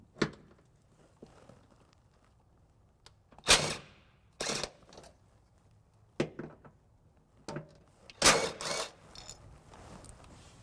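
Bolts being fastened while fitting a trailer hitch to a 2014 Ford Focus, heard as scattered sharp metallic clicks and short ratcheting bursts with quiet gaps between them.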